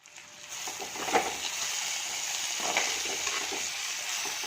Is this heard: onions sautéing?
yes